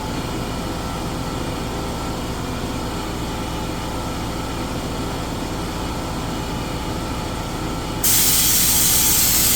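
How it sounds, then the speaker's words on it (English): A spray gun spraying spray-grade contact cement during a Bayliner 2450 boat project gives a loud, continuous, even hiss that never pauses and brightens abruptly near the end. "this is contact cement that I'm spraying. It's a spray grade."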